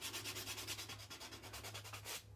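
A nail buffer rubs quickly back and forth over fingernails during a dip-nail routine, making a steady, close, rhythmic scratchy sanding with about a dozen strokes and no talk.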